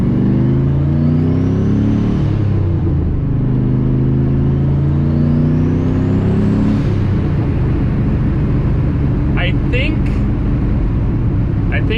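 A loud, close car engine with a new high-capacity fuel system revs up twice in rising sweeps, then settles into a steady, heavy drone.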